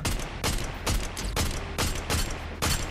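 Rapid, evenly spaced bursts of gunfire in the video game Fortnite, about seven loud booming shots over three seconds, continuous and close with no talking.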